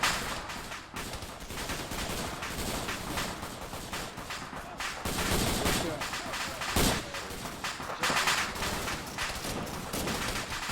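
Arma 3 combat scene with mortar and gunfire, loud dense reports and blasts filling the whole stretch with repeated sharp hits, a strong bang near the middle, talk faintly mixed in.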